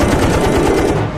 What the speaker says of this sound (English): Kassler follows him through the dangerous maneuver, firing bursts the whole way.